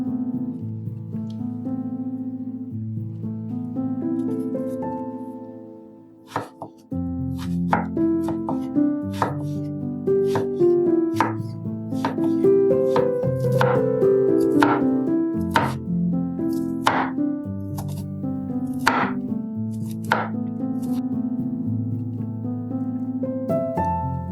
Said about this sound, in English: Now, peel and julienne the jicama.